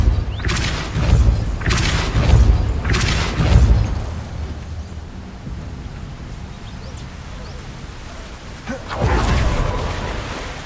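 The Depulso spell in Hogwarts Legacy goes off as several deep booming thumps in quick succession, followed by a quieter stretch and one more heavy whoosh-boom near the end.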